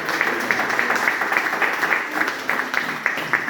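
A church congregation breaks into loud, dense applause, a close and continuous patter of many hands clapping at once.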